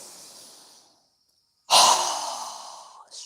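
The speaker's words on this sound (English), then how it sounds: "Strong exhale as we lower our arms." A strong, forceful exhale during a yoga breathing exercise, a sharp rushing breath that bursts in after a brief silence and fades over about a second and a half, preceded by a softer breath.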